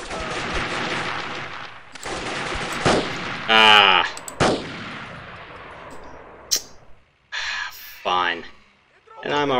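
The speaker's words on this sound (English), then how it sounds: "Where the hell are these bullets whizzing from?" Gunfire and whizzing bullets in the Delta Force: Land Warrior shooter game: dense bursts of shots and sharp cracks over several seconds, with breathy gasps and a voice talking throughout.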